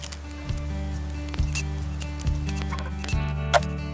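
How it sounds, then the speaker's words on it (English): Cutters snip cable ties off horizontal fence wires in four crisp, evenly spaced clicks, close by, over a steady low background hum. "Snipping the cable ties on the horizontal wires is a thankless task."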